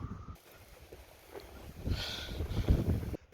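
Strong wind buffets a hillside in Canterbury, New Zealand, roaring and gusting over the microphone. It rises into louder, rougher bursts midway and drops away abruptly near the end.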